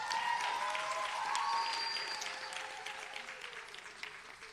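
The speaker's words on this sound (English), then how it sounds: "Let's give them a round of applause." An indoor audience applauds steadily at a launch event for new radio studios in Pretoria, the clapping dense and sustained at first, then gradually thinning.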